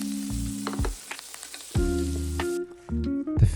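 Scallops searing in brown butter in a pan, a crackling sizzle broken by short gaps, with low clattering knocks and scraping that suggest spooning and handling around the pan, close and fairly loud.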